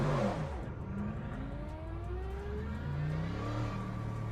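A Mercedes-AMG GT3 race car in a racing video game at Interlagos accelerates through its gears, the engine note climbing in rising sweeps, steady and fairly loud.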